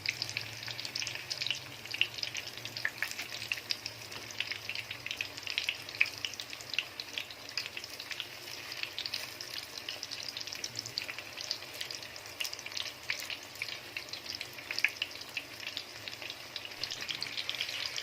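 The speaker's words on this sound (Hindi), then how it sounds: "ये देखिए बिल्कुल स्लो आंच पे पकाएंगे" Chicken noodle kebabs fry gently in oil over a low flame, giving a soft, continuous crackling sizzle with scattered tiny pops, fairly quiet and steady throughout without any voices.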